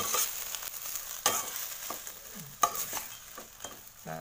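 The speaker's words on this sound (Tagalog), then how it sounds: "haluin lang natin" Grasshoppers frying in a pan while being stirred, with a continuous close sizzle broken by several sharp scrapes and knocks of the utensil, no voices.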